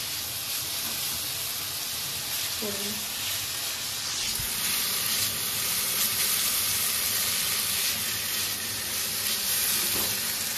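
Thick-cut, skin-on potatoes fry in a pan with a loud, constant hiss and sizzle that stays even throughout, broken only by a few faint clicks.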